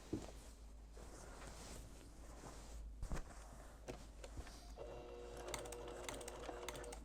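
A sewing machine stitches an in-the-hoop quilt block, with a close mechanical whir and rapid rhythmic needle clatter that builds toward the end.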